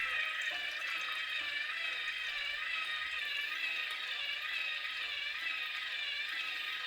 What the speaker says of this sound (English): So I will pour the chemicals in, and I will also pour the chemicals back.